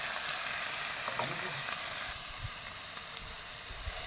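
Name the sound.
curry leaves sizzling in hot oil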